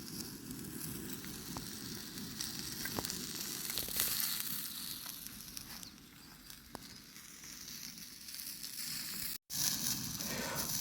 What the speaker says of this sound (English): I've got the gas burner getting the sausages going